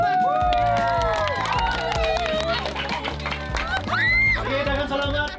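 An audience at a Filipino vs American contest event clapping and cheering loudly, a dense crowd roar mixed with music and voices throughout.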